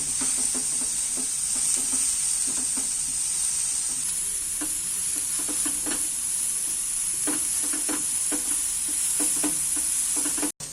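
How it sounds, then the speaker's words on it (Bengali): Salted egg-snack ingredients fry lightly in a pan, a continuous sizzling hiss broken by repeated, close scraping strokes of a spoon as they are stirred, with no talk. "নুনটা দিয়ে আবারও আমি নাড়াচাড়া করছি এইটাকে একটু হালকা ভেজে নেব"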